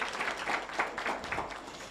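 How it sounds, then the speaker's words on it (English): Audience applause at the YAEI x Absa Youth Innovation Challenge 2024 finals, a room of clapping hands rising and falling in a moderate, steady wash. "Can we please give her a round of applause?"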